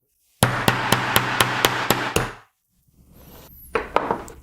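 A hammer taps a spatula wedged into a three-button diamond-shaped BMW key fob case, giving eight sharp, evenly spaced close knocks, then a pause and a few quieter taps.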